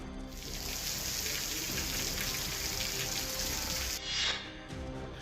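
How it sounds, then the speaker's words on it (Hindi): Heavy monsoon rain pours down in Jharkhand as a dense, steady hiss of drops pattering on surfaces, loud and continuous, with a brief shift in texture near the end. "झारखंड में झमाझम बारिश"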